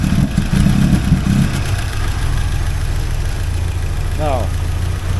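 A 1979 Porsche 924 with fuel system problems idles steadily without revving, giving a continuous low engine drone with a faint higher whine near the end.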